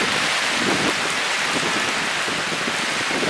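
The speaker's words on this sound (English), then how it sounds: "I just want to say that it's raining right now" Heavy rain falling steadily in the Marshall Islands, a loud, dense, unbroken hiss of drops striking surfaces nearby, with no voices.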